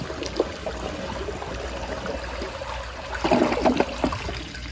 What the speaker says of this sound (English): But here's another flush.